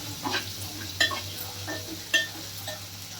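Spices for a tempering sizzle softly in oil for a spicy dried-shrimp seafood curry, with a few light utensil clinks against the pan as it is stirred.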